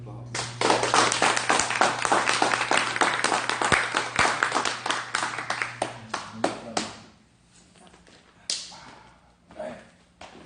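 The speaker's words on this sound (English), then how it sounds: "Let's give him a round of applause." A gym audience gives a speaker a round of applause, a dense run of sharp nearby claps for about seven seconds that thins to a few scattered claps, followed by talking.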